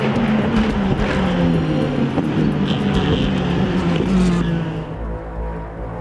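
Race car engine running hard at the Malaysia race, a loud continuous roar with shifting pitch sweeps as it passes, fading slightly toward the end.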